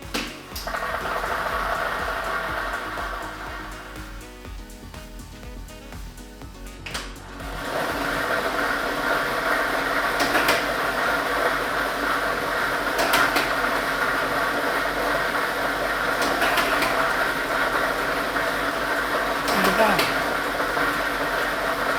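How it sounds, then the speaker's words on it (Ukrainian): A lottery ball drawing machine starts up and runs with a steady whirring mechanical hum and rattling balls, continuous and close for most of the stretch, with a few sharp clicks as balls drop. "І ми вмикаємо лототрон."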